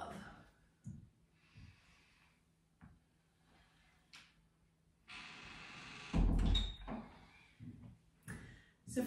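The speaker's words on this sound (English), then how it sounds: "breathing in whatever we need, breathing out whatever we want to let go of." Slow, deep yoga breathing, with soft airy inhales and exhales spread across a quiet room and one fuller, louder breath toward the end, mixed with faint movement noises.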